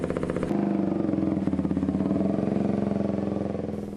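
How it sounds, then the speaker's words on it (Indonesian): Motorcycles fitted with loud aftermarket racing exhausts, seized by police, drone with a steady pulsing engine tone that rises after a brief opening and holds close and strong. "12 sepeda motor berknalpot racing pun diangkut petugas."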